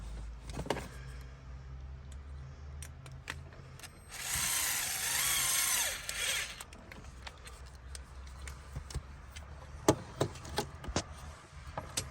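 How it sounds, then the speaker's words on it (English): A mini DeWalt driver with a square bit tightens screws on a new RV power converter board. It gives one short whirring run of about two seconds, among scattered faint clicks and knocks in a quiet room. No talking. "we're actually using a square bit when we tighten them up, and he's got a little mini DeWalt gun there"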